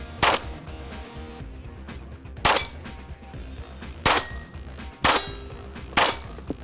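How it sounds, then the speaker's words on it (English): Gunshots ringing off steel targets at the 2013 Steel Challenge shooting competition, five sharp metallic clangs spaced unevenly over several seconds, loud and close, each with a brief ringing tail. "their dad, Smith & Wesson pro Trevor Balcom, shooting their first steel challenge"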